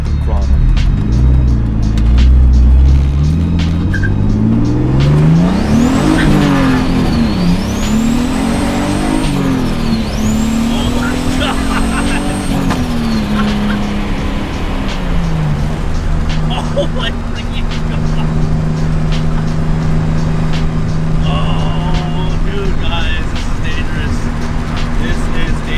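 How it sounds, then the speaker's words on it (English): Turbocharged BMW E46 engine revving hard at wide open throttle, loud and close, the pitch sweeping up and down repeatedly before settling to a steadier drone, with a voice speaking over it. "How about some wide open throttle?"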